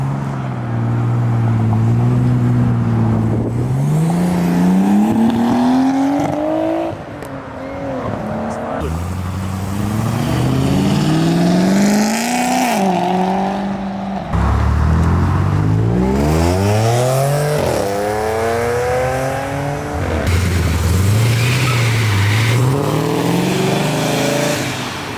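A twin-turbo Hellcat does a rolling burnout while leaving a car show, its loud engine revving and rising in pitch over about 25 seconds, with tire noise mixed in and people talking over it.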